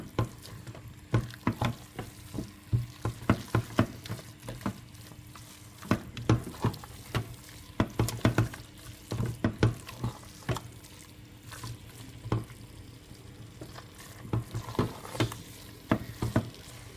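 Vegetable lasagne sauce of tinned tomatoes bubbling in a pan and being stirred, with soft wet bubbling and popping under repeated scraping strokes of a spoon, at close range.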